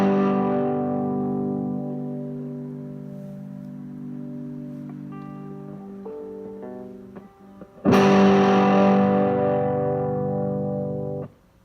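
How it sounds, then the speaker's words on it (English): Electric guitar played through an amp's dirty channel with gain high and full distortion, sustaining thick, buzzing chords that fade slowly, then a fresh loud strum rings out and decays, with no talk. "So that's full distortion using just the amp."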